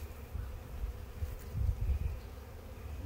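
Honey bees at an open beehive during a spring inspection of brood frames, a steady low droning buzz that swells and fades slightly, close by, with no talking.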